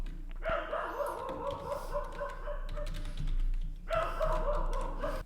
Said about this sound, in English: my dog is barking a lot